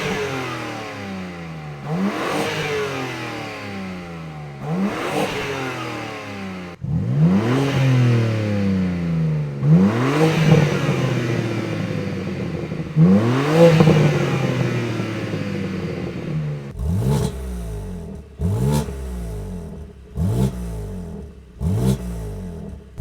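A BMW M3 or M4 fitted with a Milltek non-resonated catback exhaust revs hard and close, with several rising roars settling back to idle, then a string of quick, sharp blips near the end.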